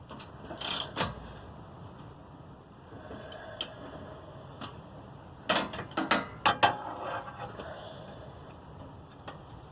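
A 5/8 wrench ratcheting and clinking against a Ford Bronco's exhaust hardware, with quiet scattered clicks and a denser burst of sharp metallic ticks midway, close but soft over a faint background hiss.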